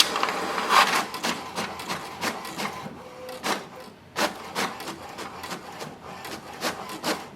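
An HP DeskJet 4300 inkjet printer runs off a diagnostic sheet, its printhead carriage sweeping back and forth in rapid, regular passes with short mechanical rasps and clicks, close and fairly loud with no talk.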